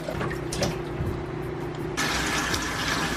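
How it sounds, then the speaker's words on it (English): Water runs steadily from a kitchen tap while raw oxtail is washed, a continuous close splashing flow that grows a little brighter and louder partway through. "so you wash the oxtail"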